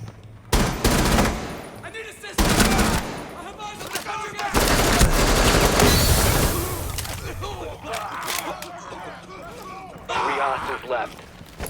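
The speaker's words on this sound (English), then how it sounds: "So you can just sit right here and shoot them as they go through." Gunfire in the video game Rainbow Six Siege, set in a training ground, with repeated bursts of shots separated by short gaps, loud and close, while a player talks over parts of the action.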